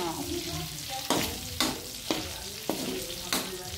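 Pork frying in hot oil until crunchy and brown for a mung bean dish, a steady close sizzle broken by about six sharp scraping stirs of a utensil in the pan.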